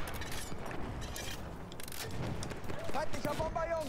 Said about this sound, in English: Here's these explosions I was talking about.